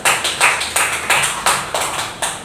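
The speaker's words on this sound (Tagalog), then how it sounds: "bigyan natin ng malakas na palakpak ang inyong pag-aaral" A classroom of students gives a round of applause, with rhythmic bursts of clapping from many hands close by, filling the room steadily with no voices over it.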